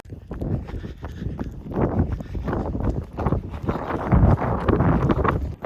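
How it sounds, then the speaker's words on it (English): Wind buffeting a microphone during a freezing cold endurance run, a dense, continuous low rumble with irregular gusty bursts that swell louder near the end, no talking. "you can probably hear the wind"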